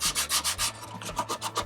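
Sandpaper rubs back and forth on a rare Harley FXR clamshell saddlebag in quick, rhythmic strokes, about ten close, loud passes with short gaps between them.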